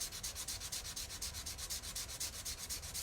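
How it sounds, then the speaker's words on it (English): Fine grit sandpaper rubbed by hand over painted furniture in quick, even back-and-forth strokes, close and steady with no pauses. "So I'm just smoothing it with a really fine grit sandpaper."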